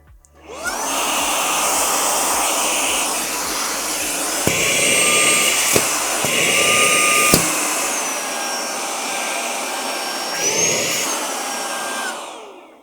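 Karcher CVH 2 Premium handheld car vacuum cleaner running loud and close with a steady whine, briefly cutting out and restarting as it switches between power modes, then winding down at the end.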